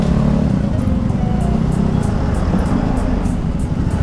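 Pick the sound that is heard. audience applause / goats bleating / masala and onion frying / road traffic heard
road traffic heard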